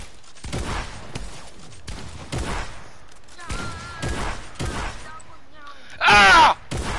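A loud, brief burst of shotgun fire in the video game Fortnite stands out near the end, after stretches of spoken talk that continue around it.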